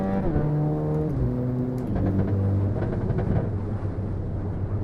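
Simulated race car engine in Assetto Corsa accelerating through the gears on an overtake, a loud continuous motor drone with rising harmonic sweeps and a few upshift steps, alone and close.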